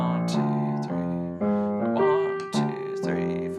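Piano plays a jazz melody over a walking bass line. Steady separate chords and notes land about every half second, close and moderately loud, with no voice.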